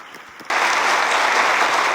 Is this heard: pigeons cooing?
no